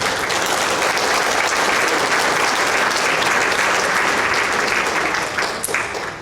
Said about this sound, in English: can we please give them a round of applause for all that they do?